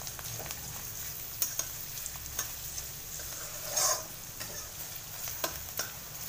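Vegetables for veg fried rice frying in a pan, a faint continuous sizzle with occasional light clicks and stirring scrapes, close up and without talk.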